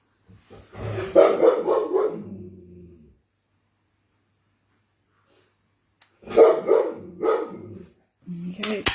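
A pet dog barks in quick bursts of several sharp barks indoors, close and loud, with a long quiet gap before a second burst and a person's voice starting at the end.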